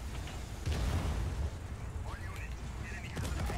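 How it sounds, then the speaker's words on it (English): In the video game Just Cause 4, a grenade explosion lands as a heavy low boom early in the clip, followed by rumbling debris and game effects while a person talks. "I don't appreciate you throwing grenades at better tank."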